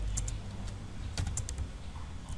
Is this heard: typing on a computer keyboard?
yes